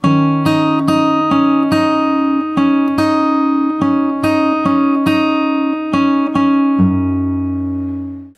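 Fingerstyle acoustic guitar picks a song's verse, steady plucked notes over ringing open strings, clear and close, ending on a sustained low note that fades out.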